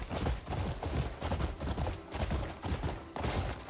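Horse hooves gallop steadily in the video game Crimson Desert, a fast rhythmic clip-clop running continuously near and loud over a dense background of game sound.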